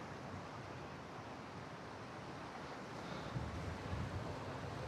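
Water flows at Ramling Bet in Bahe, Sangli district, as a steady, dense rushing wash with no break, swelling slightly louder toward the end, close by and alone without voices.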